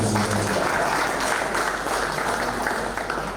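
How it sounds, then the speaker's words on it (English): Audience members at a state government press briefing give a round of applause, a broad continuous patter of clapping over room hum that tapers slightly toward the end, with a voice trailing off at the start. "can you give him another round of applause?"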